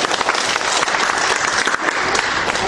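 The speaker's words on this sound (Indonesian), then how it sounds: "Tepuk tangan untuk kita." Brisk round of applause from a group at a training session in Jakarta, steady and fairly close, lasting a few seconds without talk.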